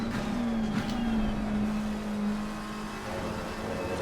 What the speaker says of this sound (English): But Lambo sounds awesome